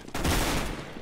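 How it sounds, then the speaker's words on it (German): Burst of gunfire in the video game CS:GO, a dense sustained volley of shots starting abruptly and holding loud for about a second, with no talk over it. "Oh, ich wurde angeschossen."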